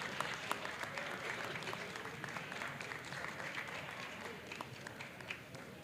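An audience at a school board meeting claps in sustained, moderately faint applause that continues evenly for several seconds.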